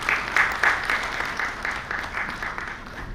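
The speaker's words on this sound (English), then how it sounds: "A big round of applause for the speaker" Moderate applause from a conference hall audience welcoming a speaker to the dais, a steady patter of clapping at middling distance with some louder individual claps near the start.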